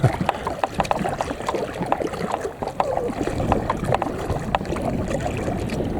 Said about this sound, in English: It's getting a bit tougher rowing.